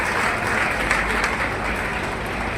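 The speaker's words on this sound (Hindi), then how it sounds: "जरा तालियां बजाकर उनका भी स्वागत करें" Audience at an Indore civic tree-planting event applauds to welcome a local leader, a steady, dense wash of clapping that holds evenly throughout without pause.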